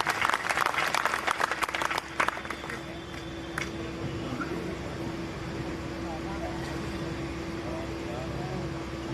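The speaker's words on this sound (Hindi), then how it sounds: "मैं चाहता हूँ कि तालियों से आप उनका इस्तकबाल करें" An audience at a mushaira claps to welcome a poet, dense close applause that fades after about two seconds into a murmuring hall with a steady hum.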